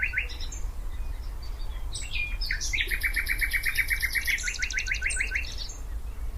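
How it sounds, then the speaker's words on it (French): Eurasian siskin song from a hide near Dimitrovgrad, Bulgaria: rapid twittering phrases and buzzy trills repeated over several seconds against steady low outdoor rumble. "tels que le tarin des aules"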